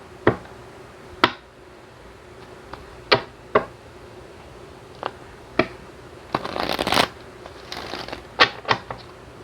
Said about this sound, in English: Now I'm going to shuffle the tarot cards here.